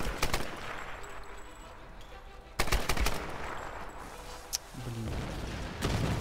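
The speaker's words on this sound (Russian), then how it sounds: "Откуда у нас, кстати, пулемет взялся?" Rapid machine gun bursts and gunshots from the Tomb Raider 2013 video game, loud and close, coming in several sharp volleys with brief gaps between them.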